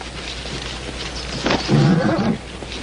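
A horse neighs in a frontier western setting, a short loud whinny rising out of quiet outdoor ambience near the end, with no voices.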